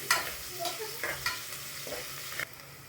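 Ingredients for methi pulao are sautéed until brown, a soft continuous sizzle punctuated by several sharp scrapes and knocks of a spatula stirring the pan, close by, with no talking.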